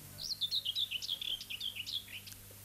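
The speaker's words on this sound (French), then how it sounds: "Fauvette." A warbler sings a rapid run of high, clear chirps and short trills for about two seconds, fairly quiet but distinct, over a faint low hum.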